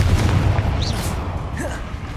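A fire spell explodes in Hogwarts Legacy, a deep booming blast with bursts and crackles layered over continuous game combat noise.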